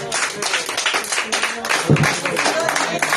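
A church congregation applauds together during a worship service, a steady mass of clapping hands layered with voices and murmurs throughout.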